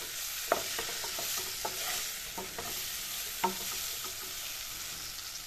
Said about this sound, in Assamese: 3 মিনিট মান সময় এখিনি কম জুইতে ভাজিলো